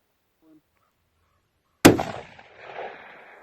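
A single sharp rifle shot fired outdoors at a distant target in snowy terrain, a loud crack with a decaying echo rolling across open ground, preceded by near silence.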